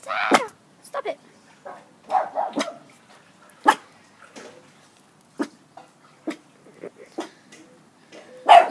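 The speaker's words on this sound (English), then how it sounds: "We don't want him barking." A dog barking indoors in scattered loud yips and barks, some close together and some spaced out, with a person's voice scolding between them.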